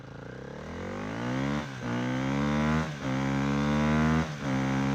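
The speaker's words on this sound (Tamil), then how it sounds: "டேய் மெக்கானிக், பைக்கை ஸ்டார்ட் பண்றா." Motorcycle engine started and revved, a steady near drone rising in pitch with three brief dips between revs, loud and alone.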